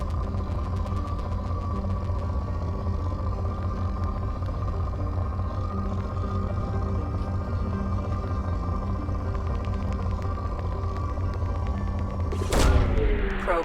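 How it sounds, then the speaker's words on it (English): A probe launches in the game Mass Effect Legendary Edition as a brief burst near the end, over a steady low mechanical hum. "Launching probe."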